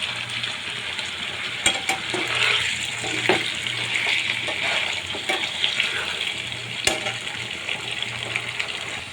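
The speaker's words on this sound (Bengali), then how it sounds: "আমি পেঁয়াজের সঙ্গে মাংসগুলো একটু ভেজে নিব" Chicken pieces frying with chopped onions in a pan, a steady close sizzle broken by a few sharp clinks of stirring and a faint voice under the cooking.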